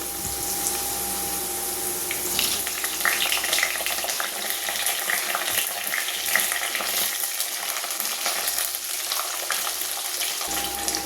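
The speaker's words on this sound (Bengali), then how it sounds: "এবারে আমি সব রকম সবজিগুলো এর মধ্যে অ্যাড করে দেব।" Mixed vegetables added to lightly fried potatoes sizzle steadily in a pan for a vegetable curry, a continuous close hiss and crackle with faint stirring and no voices.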